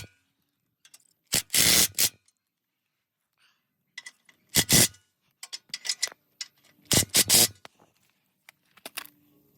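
Factory intercooler mounting brackets being refitted on a Ford Bronco Raptor with a Cobb intercooler: three short, close bursts of clattering mechanical noise separated by quiet gaps and scattered small clicks.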